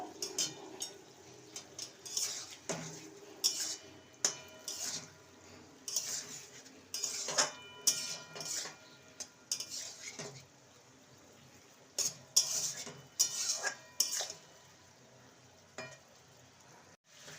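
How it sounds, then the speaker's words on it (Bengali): Fried brinjal pieces stirred through a chili sauce in a pan with a metal spatula, giving repeated clinks and scrapes in irregular bursts over a soft sizzle, close and fairly loud, with no talking. "এবার ভেজে রাখা বেগুনগুলো দিয়ে দেবো ভালো করে মিশিয়ে নেব"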